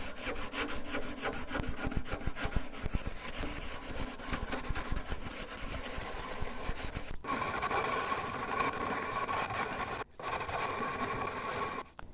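Sandpaper rubs along a wooden guitar neck that has been shaved thinner, making a close, continuous rasping scrub in quick back-and-forth strokes. Two brief pauses break the sound near the end, and nobody talks.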